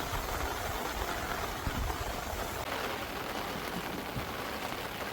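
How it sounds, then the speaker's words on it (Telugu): Heavy storm rain pours without pause during a fishing trip near a pond, a dense, loud, unbroken hiss close around the listener, with no voices. "వానేమో తగ్గట్టుగా లేదు"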